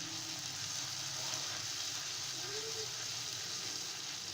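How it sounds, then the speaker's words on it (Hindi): Ginger garlic paste frying with onions in a pan for a Lahori cholay, a steady soft sizzle filling the whole stretch with a faint whine in the background. "जिंजर और गार्लिक के पेस्ट को भी सिर्फ 1 मिनट तक ही फ्राई करेंगे प्याज के साथ।"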